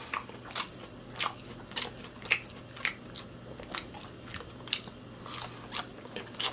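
Someone bites into a taco and chews it close up, with about a dozen crisp crunches spaced at a steady, regular pace over quiet background.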